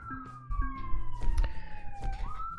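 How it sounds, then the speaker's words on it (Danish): A police car siren wails outside a terrace door in Hjørring, a steady high tone sliding slowly downward then rising again, moderately near over rumbling background noise and a few knocks. "Og så kan man høre politibilen herude i Hjørring."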